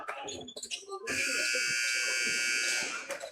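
A basketball game-end buzzer sounds at a high school game, a loud sustained electronic tone lasting about two seconds over crowd noise and announcer talk.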